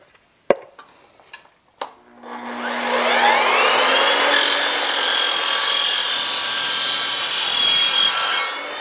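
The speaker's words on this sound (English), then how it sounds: "And here is the aluminum tube with the 1 inch thick wall. Let's see how well the aluminum blade does on this." An Evolution sliding miter saw with an aluminum blade cuts a thick-walled aluminum tube: a few sharp clicks, then the blade spins up into a loud, steady, high metallic whine as it bites through, ending abruptly.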